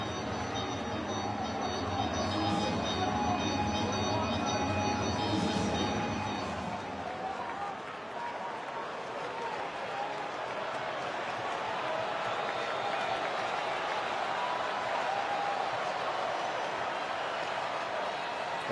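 A large baseball crowd at Citizens Bank Park during a Dodgers–Phillies playoff game roars in a sustained, far-spread wash of cheering and noise, swelling early then holding steady, with a commentator talking over it.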